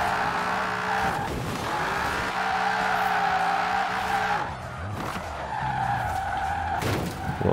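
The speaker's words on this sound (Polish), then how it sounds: "Przerobiony, z silnikiem V10, 8-litrowym, bardzo fajny dźwięk." Tyres squeal in long, loud skids from a Ford F-100 pickup with a swapped 8-litre V10 in Forza Horizon 4, the engine droning steadily beneath, dipping briefly around the middle before the slide picks up again.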